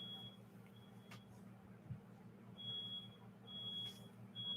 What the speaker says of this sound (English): I'm sorry again for the beeping in the background. That is my next door neighbor's alarm or smoke detector.